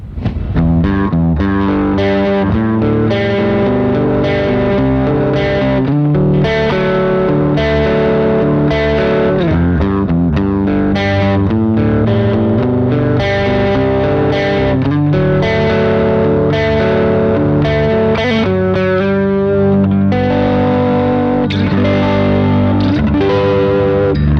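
A distorted electric guitar riff with chorus and effects plays continuously, loud and sustained with rhythmic chord changes throughout.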